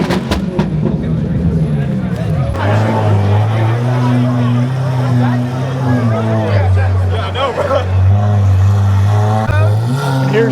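An exotic car pulls away with a loud, low engine drone and rising revs amid a chattering crowd, with voices heard throughout.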